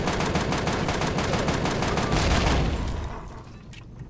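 A gun turret firing in the space-survival game Empyrion, Alpha 4, at a fortress: rapid, evenly spaced automatic bursts, loud and close, that keep going for several seconds before tapering off into quieter rattling.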